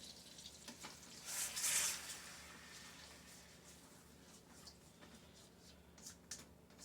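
A heaping tablespoon of garlic sizzles in a frying pan, with a bright hiss that swells early, then settles into a quieter crackle and occasional light ticks.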